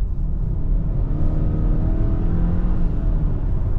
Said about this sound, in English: more just the RPMs building of a typical boxer sound